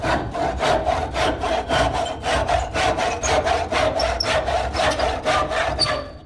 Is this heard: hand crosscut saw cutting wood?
yes